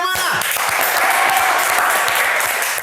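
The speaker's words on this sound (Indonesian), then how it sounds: "Tepuk tangannya mana?" A large studio audience at a televised debate show claps loudly and continuously, a dense wash of applause with a few shouts mixed in, starting abruptly and holding steady to the end.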